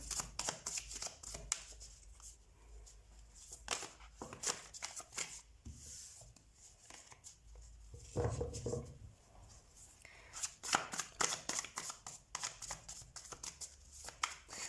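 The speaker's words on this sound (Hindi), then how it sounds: "सबसे पहले हम कार्ड शफल कर लेते हैं ऑप्शन वन के लिए" Tarot cards are shuffled by hand in repeated quick riffling bursts of crisp papery flutters and taps, close and fairly quiet, with short pauses between passes.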